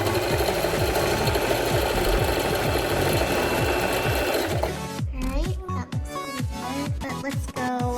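A Singer Prisma Heavy Duty sewing machine runs a straight stitch, a loud rapid mechanical whirr that stops and restarts in shorter bursts, with a person talking over it.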